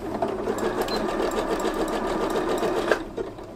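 A sewing machine on zigzag stitch, stitching a lined T-shirt tote bag, runs steadily with a fast, rhythmic mechanical clatter, close up, stopping briefly near the end before whirring on.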